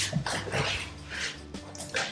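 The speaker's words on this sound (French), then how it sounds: "J'ai le chien qui me fait un bordel là," A dog indoors in a house under renovation barks and whimpers in quick, agitated bursts, near and fairly loud, making a racket over a low background hum.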